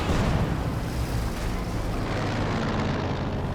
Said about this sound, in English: Conscripts get in there for an anti-tank grenade.